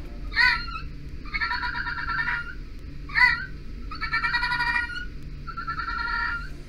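A fennec fox gives repeated jittery, chattering calls, short sharp yips alternating with longer stuttering trills, over a low background hum.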